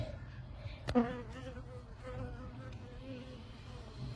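Honeybees buzz faintly around a hive during an early spring inspection, a soft continuous drone with a brief louder burst near one second, as if a bee passes close.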